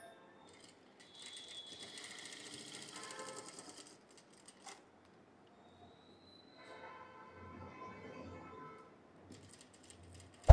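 A sewing machine stitches piping on a boat-neck blouse in two short bursts of mechanical whirring, separated by a quiet pause. Each run is fairly faint and close.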